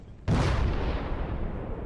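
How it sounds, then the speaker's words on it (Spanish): A huge explosion bursts suddenly after a short quiet stretch, then a loud, broad roar rumbles on and slowly fades, with no voices over it. "lo intenta recrear y crea una enorme explosión"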